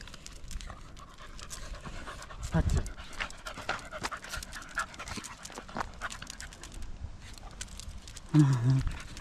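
A dog pants in quick, rhythmic huffs close by, with short whimpers and a couple of louder bursts mixed in, while people talk intermittently in the background.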